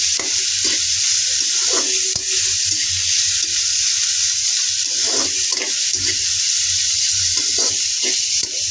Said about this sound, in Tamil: இப்போ நான் எடுத்து வச்சிருக்கிறேன் இந்த பச்சை மிளகாய், கருவேப்பிலை, ரொம்ப வெள்ளத்தையும் அப்படியே இதுக்குள்ளே சேர்த்துக்கொள்கிறேன். சேர்த்துட்டு இதை நல்லா இப்போ வதக்கி கொள்ளுவோம்.